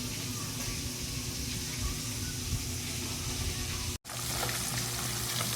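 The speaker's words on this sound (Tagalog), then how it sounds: "At malapit na rin maluto yung prito natin." Fish frying in hot oil makes a steady, crackling sizzle at close range, cut off for an instant before it carries on.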